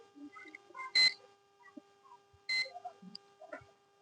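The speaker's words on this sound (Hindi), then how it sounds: "अगर ये शॉर्ट होगा तो ये बीप का साउंड देगा।" Multimeter in buzzer mode testing a non-polar capacitor: two short, loud electronic beeps about a second and a half apart, with faint tonal hum and small clicks of probes and handling around them.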